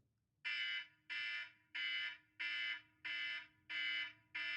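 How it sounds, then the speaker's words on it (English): A countdown timer bell rings in a steady pulsing pattern, seven long, even bursts with short gaps between them, loud and insistent in an otherwise quiet room. "there's like a DEFCON 1 bell going off"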